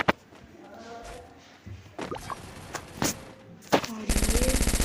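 UZI fire in a Garena Free Fire clash squad match: scattered game sounds and footsteps, then a rapid, loud burst of automatic shots near the end.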